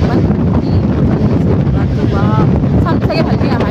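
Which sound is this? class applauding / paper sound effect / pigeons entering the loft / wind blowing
wind blowing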